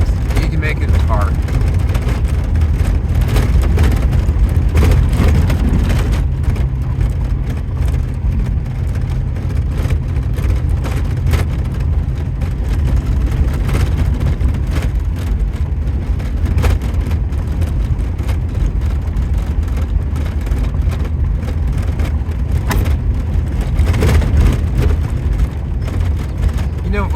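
A car rolling along a well-packed gravel road in the Eastern Sierra, a continuous low engine and tire rumble with faint crunching that stays close and steady throughout, with a voice talking over it at times.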